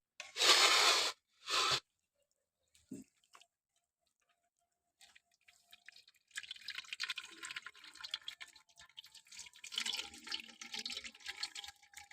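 Water poured over cooked rice to rinse off starch while making Pakistani zarda sweet rice: a steady splashing, trickling pour fills the second half after a few brief louder bursts and quiet gaps.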